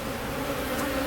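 Honeybees buzz steadily during a beehive inspection, a dense, continuous drone close by with no speech.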